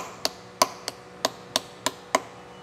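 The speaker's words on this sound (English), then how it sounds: "we're gonna start prying back these tabs right here" A chisel works against the lock washer tabs of a Rekluse TorqDrive clutch on a 2021 Husqvarna 501, giving seven crisp, close metallic taps spaced fairly evenly over a couple of seconds.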